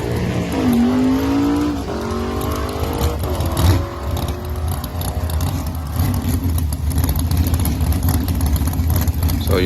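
A 70 drag race car at the track in testing, engine revving with rising tones, then a loud sustained roar with rough, rumbling texture, close and loud.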